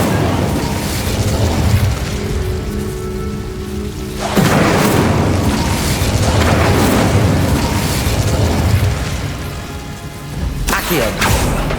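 A fire-spell blast, Incendio in Hogwarts Legacy: a heavy, roaring whoosh swells into a dense crackling rumble, joined by a brief tonal hum early on and a sharp burst near the end, all loud and continuous.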